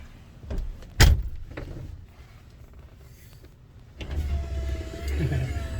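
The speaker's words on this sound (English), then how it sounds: "Show them all the windows work." Power windows on a 1976 Cadillac Sedan DeVille whir up and down, a door thumps shut loudly early on, then the electric window motor hums in a steady run near the microphone.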